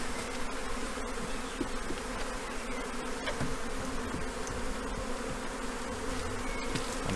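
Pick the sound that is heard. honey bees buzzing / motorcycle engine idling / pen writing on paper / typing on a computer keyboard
honey bees buzzing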